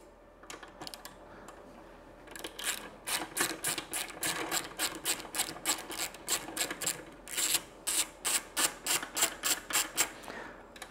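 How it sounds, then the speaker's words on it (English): A 10mm socket wrench unfastening seat bolts on a Royal Enfield 650 Super Meteor motorcycle, giving a fast, steady series of close, crisp ratcheting clicks in rhythmic bursts. "And I'm now going to use my 10mm socket."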